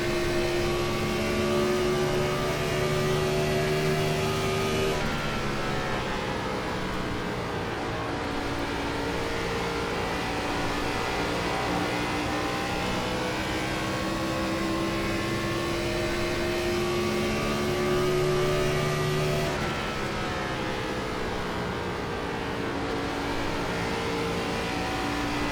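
An iRacing Gen 4 Cup car held at full throttle on the straights of Nashville Superspeedway in a racing game, its engine a loud, steady, sustained drone whose pitch shifts slightly at two points. No one speaks.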